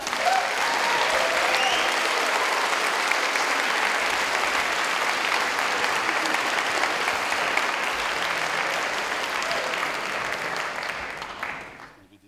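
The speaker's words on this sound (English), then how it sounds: "Please give a loud applause to Dave Nellist" A socialist rally crowd gives loud, sustained applause for Dave Nellist, dense clapping from many hands that holds steady for about ten seconds before fading out at the end.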